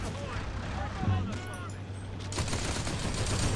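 Bursts of machine gun fire in a real-time strategy video game, sharp rattling shots against battle noise while a commentator talks over the action.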